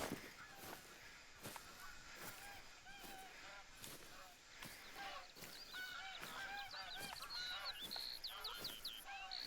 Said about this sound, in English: even though there's geese coming in